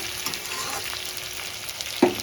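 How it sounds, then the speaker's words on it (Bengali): Rohu fish curry ingredients frying in a pan, a soft steady sizzle with light stirring and a brief louder clatter near the end. "ভাজা ভাজা হয়ে এসছে।"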